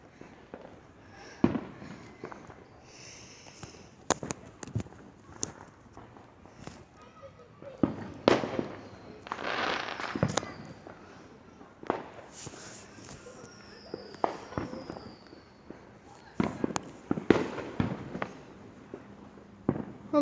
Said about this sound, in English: So 4th of July it's very, very nice. So much fireworks.